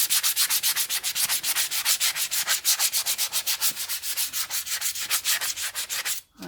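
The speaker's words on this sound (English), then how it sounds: "the difference when I rub my fingers over the bit I haven't done and the bit I have done" Fingers rub quickly back and forth over a gessoed MDF board, making a close, dry scratchy swishing in a fast regular rhythm of some thirty strokes before stopping abruptly.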